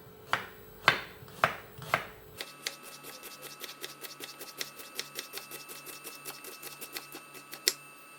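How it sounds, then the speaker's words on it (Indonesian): Knife chopping turmeric leaves on a board for a Manado stir-fry: a few heavy separate strikes, then a fast, steady run of crisp chops close by. "sekarang daun kunyitnya dipotong-potong juga"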